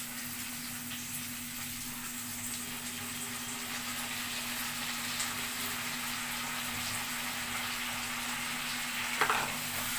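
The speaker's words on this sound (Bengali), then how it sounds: "ডালটা দিয়ে আমি একটু ভাজা ভাজা করে নেব।" Lentils fry in a pan with leafy vegetable curry, giving a steady, soft sizzle that carries on evenly, with a faint clink of stirring near the end.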